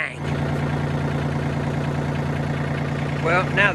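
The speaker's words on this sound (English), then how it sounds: "Well, now the tractor's moving." A tractor engine runs steadily as the machine moves, a droning mid-pitched rumble with a constant hum throughout, and a voice briefly talks near the end.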